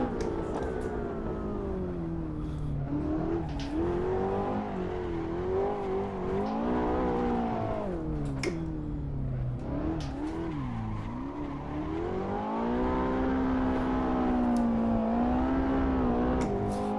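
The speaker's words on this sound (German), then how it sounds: "Ein ganz kleiner, leicht gezirkelter Drift." A Ferrari 488 GTB in Assetto Corsa, driven on the Road Atlanta track, holds a small, steady drift: its engine drones continuously with rising and falling pitch as the throttle is worked, and faint tire squeal runs underneath.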